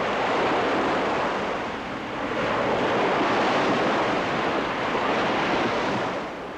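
Ocean surf and strong wind while windsurfing, a loud, continuous roar of breaking waves mixed with wind buffeting the microphone, swelling and easing slightly, with no voices.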